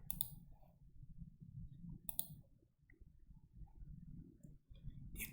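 Computer mouse clicks while working in Revit drawing a roof, a few sharp, quiet clicks spaced seconds apart over faint room noise.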